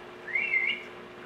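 A single short whistled note, slightly wavering in pitch, sounds faintly near a low background hum.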